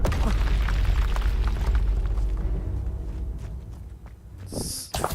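A deep roaring fire spell blast from the Hogwarts Legacy game, a loud rumbling whoosh that fades over a few seconds before a brief bright chime.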